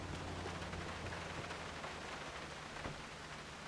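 Steady rain hisses continuously during a shootout in the video game GTA 4, a dense, even wash of falling water with no talk over it.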